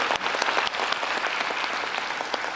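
A church congregation gives dense, sustained applause for the fathers at a Father's Day service, a full even wash of clapping that fills the room without pause.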